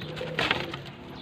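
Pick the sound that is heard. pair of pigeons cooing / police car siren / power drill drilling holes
pair of pigeons cooing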